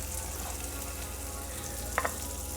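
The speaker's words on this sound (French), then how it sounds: "Ça grille." Slices of mushroom and potimarron squash grilling in a hot pan, a soft continuous sizzle with a couple of brief sharp clicks near the end, close but fairly quiet.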